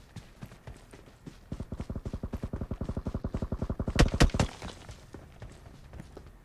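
Automatic gunfire rattles in a rapid, even burst in the mobile battle royale game BGMI, followed by several louder, sharper shots before the sound trails off into quieter background noise.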